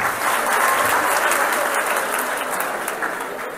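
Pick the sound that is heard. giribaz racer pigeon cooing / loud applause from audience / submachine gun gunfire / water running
loud applause from audience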